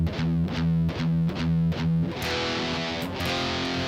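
Distorted electric guitar chugs a rhythmic run of palm-muted pedal tones, then opens into a sustained, ringing E5 to F5 power-chord change, loud and up close with no voices.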